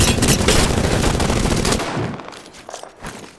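Loud, continuous automatic gunfire in Apex Legends, rapid dense bursts for nearly two seconds before cutting off into quieter scattered game noise.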